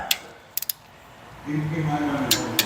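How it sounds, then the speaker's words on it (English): Wrench ratchet clicking while valve train bolts on a Mopar drag-racing engine are torqued to 25 foot-pounds, with a few sharp metallic ticks followed by a short, faster ratcheting run. "We're gonna torque these."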